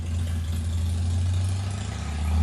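A loud motorcycle engine rumbles and throbs steadily as it drives along a street nearby, its low growl swelling slightly toward the end.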